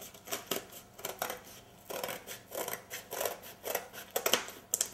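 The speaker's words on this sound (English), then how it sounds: "I'm just going to hold it up against there and cut it." Scissors snip through cake decoration being cut to fit a styrofoam form, a close series of about a dozen short crisp cuts in an uneven rhythm.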